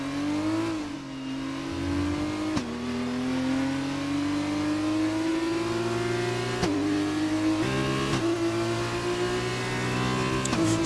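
F2 race cars on the last lap of a race at a Chinese circuit, a loud engine whining steadily upward through the gears with sharp shift drops, close and continuous, with no talking.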